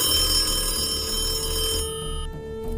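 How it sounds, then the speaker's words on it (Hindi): A telephone rings with a steady electronic tone that holds clear and fairly close, then cuts off near the end, with no voices. "आखिरकार फोन की घंटी बजती है।"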